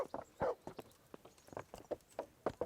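Horse hooves clip-clopping in a video game, a brisk irregular run of hoof strikes, fairly quiet and alone.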